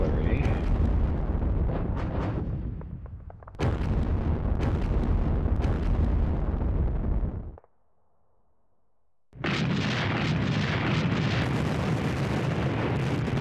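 Heavy 150mm artillery guns fire in the wargame Sealion '40, loud broadband booms in a couple of long rumbling bursts, a brief silent gap, then another sustained roaring barrage.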